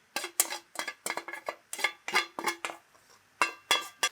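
Ground beef mixture with cheese being stirred in a dish, a series of rhythmic scraping clinks and knocks of a utensil against the bowl, close and moderately loud, with brief gaps between strokes.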